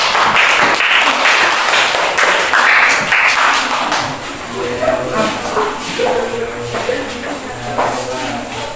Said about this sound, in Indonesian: Beri tepuk tangan dulu dan silakan.